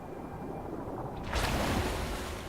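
A sudden rush of water sloshes in partway through, a broadband splash that swells and lingers over a steady low rumble of wind and ambience in the video game Anthem; no one speaks.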